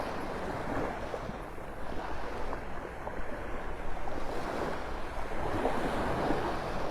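Steady ocean surf washes onto Vanderbilt Beach in North Naples, Florida, a continuous broadband roar of breaking waves mixed with gusts of wind buffeting the microphone, no voices present.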